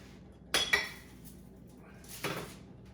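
Pots and utensils clatter as shrimp and mackerel seasoned rice is served up, with two sharp metallic clinks close together early on and another scrape a moment later, over quiet background.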